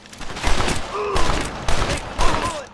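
A revolver fires in the Western game Red Dead Redemption, sharp cracks in quick bursts of several shots with short gaps between, loud and close amid game sounds.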